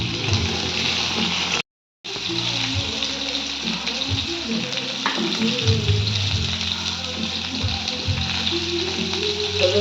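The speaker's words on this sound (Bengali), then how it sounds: "এবার মাছ করবো মাছটা একটু ভেজে নিই" Fish fries in a pan with a loud, dense sizzle close by that runs almost the whole time, broken by one brief silent gap. Low muffled voices and kitchen clatter sit beneath the crackle.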